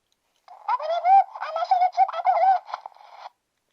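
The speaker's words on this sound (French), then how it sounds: "Il faut l'écouter, hein, c'est un hamster." A plush toy hamster squeaks out a high, warbling chatter of cooing chirps for about three seconds, then stops, close up against silence.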